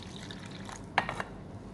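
Water poured into a saucepan holding gelatin, a soft brief splash and trickle sound, faint and close, with no one talking.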